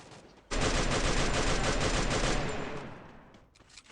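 Rapid automatic gunfire in the mobile battle royale game Free Fire rattles out as one loud, continuous burst lasting about two seconds, then fades away.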